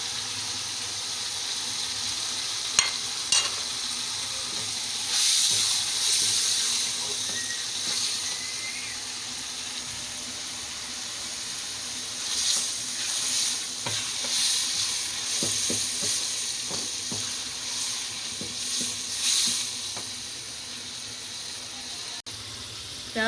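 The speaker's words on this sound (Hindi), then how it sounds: "प्याज डाला है और उसको थोड़ा ब्राउन करने के बाद हम लोगों ने उसमें टमाटर डाले हैं।" Onions and tomatoes frying in a pan, a steady close sizzle with scraping stirs and occasional clinks, fairly loud throughout and free of talk.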